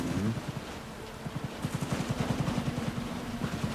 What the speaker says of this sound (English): All these gunshots